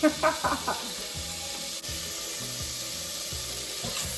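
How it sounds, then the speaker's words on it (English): Sweet onions flash fry in a pan with a close, steady sizzle. A few knocks and scrapes open the sound, then soft stirring rubs continue beneath it. "Once we add the onions, we're gonna flash fry this for about 5 minutes"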